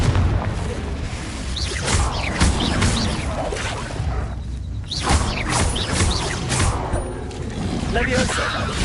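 Confringo spell blasts in the Hogwarts Legacy wizarding action game, repeated loud booms and crashes over dense combat effects and music, with a voice speaking throughout.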